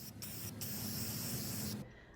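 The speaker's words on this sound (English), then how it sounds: "I'm going to use a spray primer." A can of spray primer hisses in short bursts onto new knotty pine, then one long steady spray close by, ending abruptly.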